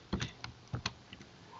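Computer keyboard typing while setting up a MongoDB database for an ASP.NET MVC project: a short burst of several close, crisp key clicks in uneven rhythm, then quieter scattered taps, with no talking.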